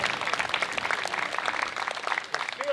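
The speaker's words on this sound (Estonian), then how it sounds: "Ja muidugi aplaus ka Treimani koorile." An audience applauds a choir at an Estonian song festival, a lively run of hand claps lasting a few seconds with no voices over it.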